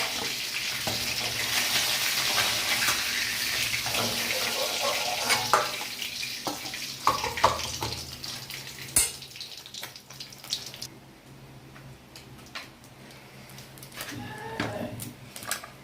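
Two bay leaves tempering in hot oil after fish frying, for a 3.5 kg bhetki recipe; steady sizzling and crackling with stirring clatter runs throughout, fading slightly midway before picking up again near the end.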